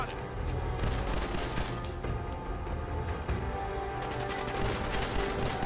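Rapid bursts of gunfire crackle in Fallout 4 as covering fire, dense overlapping shots in a loud continuous barrage, with voices and game sounds mixed in underneath.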